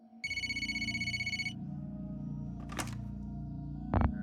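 A phone rings in a FNAF fan video game: a steady trilling ring pulses for over a second over a low, constant electronic hum, followed by a few brief clicks and beeps.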